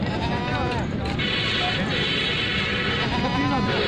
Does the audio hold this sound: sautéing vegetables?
no